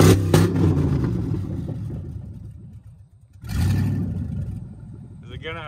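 A Dodge engine runs loud and raw with no muffler, a dense broadband roar that dips briefly near the middle before surging back, with a voice talking over it.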